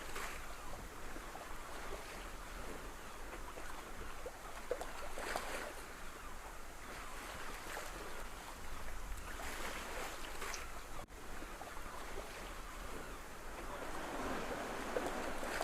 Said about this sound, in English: The sounds of the city, you can hear it even being docked on the boat.